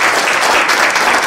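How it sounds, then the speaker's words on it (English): Loud, dense round of applause from an audience at a Latina women leaders event in Solano County, a continuous close wash of many hands clapping. "Can we get that round of applause?"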